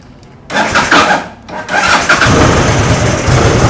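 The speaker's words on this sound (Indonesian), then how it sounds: "Ini masih bersuara knalpot standar. Ini Standar suara pabrik." A motorcycle with its standard factory exhaust cranks and starts, sputtering twice before settling into a steady, moderately quiet running idle close by.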